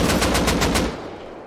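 An AK rifle fires in the survival game Rust, a fast burst of about six close, loud shots in even rapid rhythm, ending in a short fading tail.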